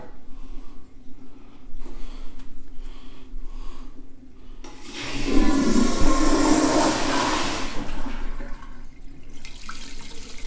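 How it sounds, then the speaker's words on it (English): A toilet flushes in a car dealership restroom, a loud rushing surge of water in the middle after quieter background noise, then draining and tapering off. "I'm gonna go flush the other toilets,"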